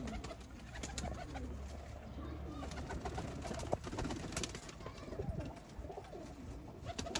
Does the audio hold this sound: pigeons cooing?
yes